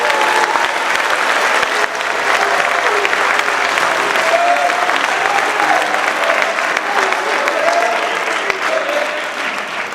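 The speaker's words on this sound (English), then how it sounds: "One more round of applause for class 2023" A large crowd applauds the graduating class at an 8th grade elevation ceremony, loud sustained clapping from many hands filling the whole stretch without letup.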